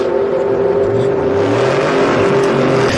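A Camaro and a stick-shift pickup truck drag racing at Sick Week 2024 power hard with a loud, steady engine roar, a continuous throaty drone with rising revs and no pauses.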